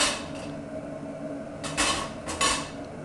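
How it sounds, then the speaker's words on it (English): A pan clatters against a stovetop as it is set down for heating, with a few sharp metallic clanks and scrapes standing out over a low, steady background hum. "You're going to want to heat up this pan."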